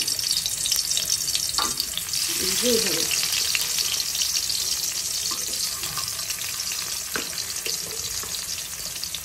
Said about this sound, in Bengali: এখন একটা কড়াইতে তেল দিয়ে নিয়েছি, তেলটা খুব ভালোভাবে গরম হয়ে গেলে এইভাবে মিষ্টি কুমড়ার টুকরাগুলো তেলের উপর দিয়ে দিয়েছি